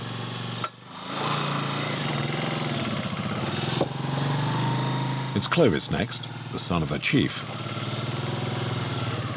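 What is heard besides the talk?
motorbike riding over a rough jungle track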